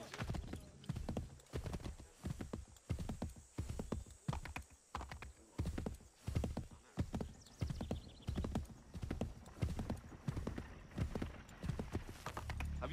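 Horse hooves clip-clop in Assassin's Creed 3, a steady rhythmic gallop of close, distinct beats running continuously for about thirteen seconds.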